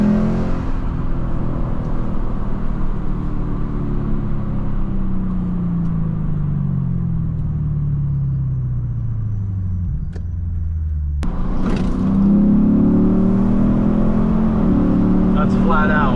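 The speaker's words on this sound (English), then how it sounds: "that third to second downshift is my favorite. It does like this rev match, and it sounds so good." A Lexus IS F engine rev-matching on a third-to-second downshift, loud and close: a steady rising-then-falling drone sweeps down, cuts briefly, then blips up sharply to a higher pitch and holds, with speech over it.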